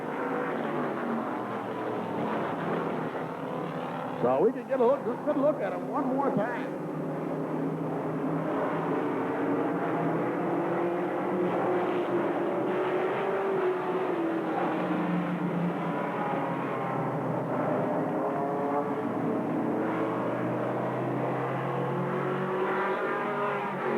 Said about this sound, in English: They're going to get those racing tires warmed up a little bit here for you.